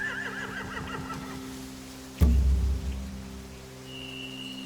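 Horses in The Walking Dead: The Final Season video game whinny briefly at the start against a rain-like hiss, followed by a sudden low thump and a thin steady tone.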